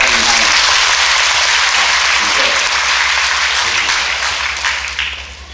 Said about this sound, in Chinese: 我们来拍手来欢迎他们。